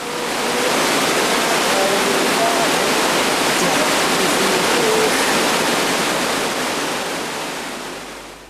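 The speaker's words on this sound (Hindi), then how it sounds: "दूसरी ओर गरजते हुए ऊपर से गिरने वाले एवं बहने वाले धुआंधार प्रपात" A thundering waterfall beside the Kali Ganga river roars as a dense, steady wash of rushing water, loud and continuous throughout before easing slightly at the end.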